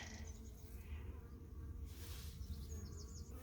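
Honey bees buzz around an open hive after a storm, a close droning hum with individual insects swelling loudly as they pass near the ear, over a continuous lower background swarm.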